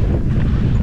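Strong cold wind in Iceland buffeting the microphone, a loud, low, continuous rumbling roar with no voices.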